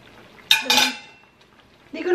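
A salmon head is turned over in a pan while cooking adobo-style, with a sharp metallic clatter of utensil against pan, a brief pause, then another scrape and clink near the end.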